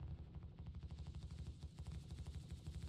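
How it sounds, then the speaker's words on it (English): Rapid automatic cannon fire from a ship's turret in Star Citizen, aboard a Drake Caterpillar: a continuous, evenly pulsing stream of heavy shots with a deep rumbling body, sustained for the whole stretch with no talking. "I can shoot just about anywhere"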